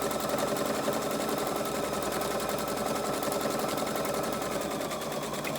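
Sewing machine running steadily for a close top stitch on a six-panel welding cap, a continuous dense mechanical whir close up, with no talking.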